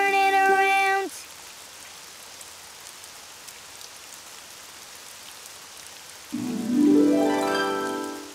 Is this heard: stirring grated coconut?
no